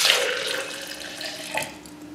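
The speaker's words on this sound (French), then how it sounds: "Il suffit de verser le lait tiède dans un blender" Warm milk pours into a blender in a short, steady splashing stream, close and moderately loud, tapering off within about two seconds.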